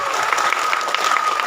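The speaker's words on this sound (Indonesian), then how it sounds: "Tepuk tangan yang kompak ibu-ibu." Women in a mosque audience clap together in a dense, steady burst of applause, close and even, with no talk over it.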